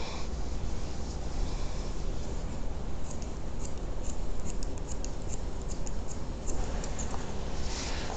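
Scissors snip through hair during a blunt horizontal haircut, giving a steady stream of soft, close crisp cuts that continue evenly throughout.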